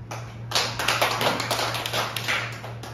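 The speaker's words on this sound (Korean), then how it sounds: "하나님 앞에 감사의 박수를 보냅니다" Church congregation applauding in thanks during a worship service, a dense burst of many hands clapping that starts abruptly and holds steady for a couple of seconds over a low hum.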